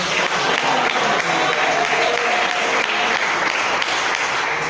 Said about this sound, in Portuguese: Bate palmas agora.